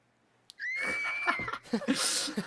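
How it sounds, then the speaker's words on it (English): A female scream sound effect for a horror film jump scare: a sudden shrill, sustained shriek that bursts in after a brief click and holds loud for nearly two seconds, breaking into ragged cries. "this is where I bring in my female scream"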